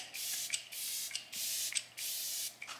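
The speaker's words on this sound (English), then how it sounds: "Oh, you can spray it." A facial mist spray fires in four loud, close hissing bursts of about half a second each, separated by brief pauses.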